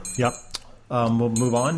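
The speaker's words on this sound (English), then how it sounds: "That's our alarm right there, telling us to stop beating horses." A studio alarm beeps in a thin, high tone, mostly buried under conversation, with a sharp click partway through.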